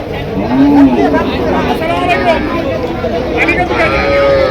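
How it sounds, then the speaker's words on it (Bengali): A local deshi cow lets out a single loud, close moo at a busy village cattle market in Cumilla, with crowd chatter and voices running underneath throughout. "তার মাঝে একটি দেশি গাভী দেখা যাচ্ছে"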